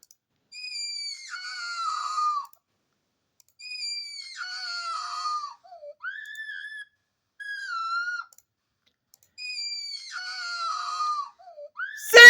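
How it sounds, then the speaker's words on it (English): A cartoon child throwing a tantrum in a library screams and cries in five high-pitched wailing bursts, separated by silent gaps, ending in a sharp loud noise. "stop screaming and crying right now"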